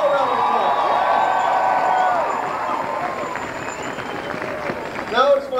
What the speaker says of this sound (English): So let's give all a round of applause.